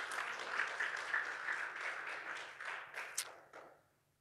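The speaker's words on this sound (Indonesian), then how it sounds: "Berikan tepuk tangan yang meriah bagi Tuhan." A church congregation clapping together in praise, a broad sustained wash of hand claps that thins out and fades over the last second, with no voices over it.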